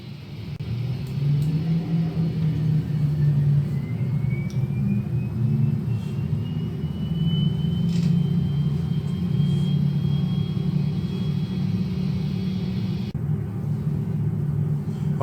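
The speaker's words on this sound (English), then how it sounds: "Okay, now both the engines are spooling up." Airbus jet engines spooling up, a heavy continuous rumble with a thin whine that slowly climbs in pitch and then holds steady, loud and sustained throughout.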